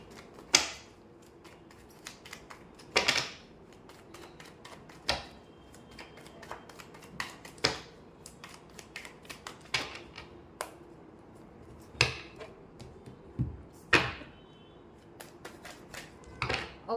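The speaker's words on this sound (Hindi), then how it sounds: "कार्ड शफल कर लेती हूँ।" Tarot cards are shuffled close by in an otherwise quiet room, with sharp riffling flicks and slaps repeating every second or two at an uneven pace and no talk.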